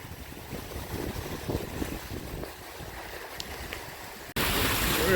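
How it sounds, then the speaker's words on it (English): Wind blowing hard across an exposed rocky point on a lakeshore, a steady broadband roar that gusts and jumps sharply louder near the end as it hits the microphone directly. "Hopefully you can hear me over the wind."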